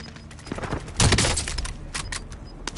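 Call of Duty Warzone gunfire, with rapid sharp cracks in bursts, loudest in a dense volley midway, then scattered shots.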